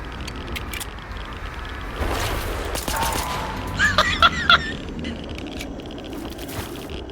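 Gunfire in the S.T.A.L.K.E.R. 2 video game crackles in scattered bursts of close shots, with a tight cluster of loud reports in the middle over a rumbling, scraping backdrop and no talk.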